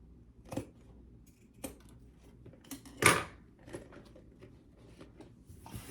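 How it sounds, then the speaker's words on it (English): Scissors snip along the uneven seams of a small fabric crossbody bag, a few sparse, close cuts with one sharper snip midway and quiet pauses between. "So I'm just barely trimming it up."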